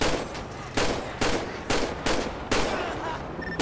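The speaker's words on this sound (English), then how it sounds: "I'm just hearing semi-automatic gunfire" Semi-automatic gunshots in a video game crack at a steady, spaced pace, five or six loud single shots with rumbling echo filling the gaps between them.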